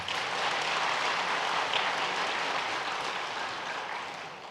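A church congregation at a Sunday service claps loudly in welcome, a dense sustained roar of applause that slowly fades toward the end.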